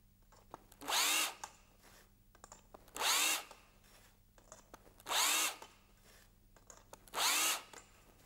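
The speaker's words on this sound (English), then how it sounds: "We use the deburring tool, working hole by hole." A cordless low-speed drill fitted with a 7.3 mm 90-degree deburring tool works rim holes one by one, giving four separate high whirring bursts of about half a second each at a steady interval, with quiet handling noise between them.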